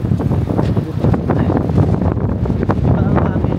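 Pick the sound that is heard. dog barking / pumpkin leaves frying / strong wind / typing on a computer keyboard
strong wind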